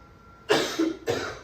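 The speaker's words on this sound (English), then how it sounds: "Sorry for my coughing." Two sharp, close coughs in quick succession, the first with a raspy tail, against a quiet room.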